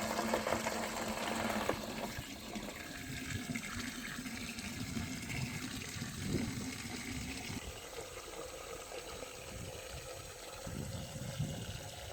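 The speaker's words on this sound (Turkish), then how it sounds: "Tamam suyum doldu." Tap water running and splashing into a container while vinegar is being made from hawthorn fruit, a steady close wash of pouring water throughout.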